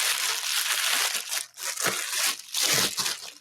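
Plastic milk bag handled and crinkled up close, loud rustling and crunching in several bursts with short pauses between them.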